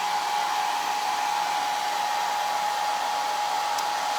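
Hair dryer blowing to dry folk art chalk-style matte paint on a craft piece: a steady, loud, continuous whir with an even motor tone throughout.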